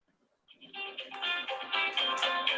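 A phone ringing, with a tonal, melodic ringtone that starts suddenly and keeps sounding close and fairly loud, with no voices over it.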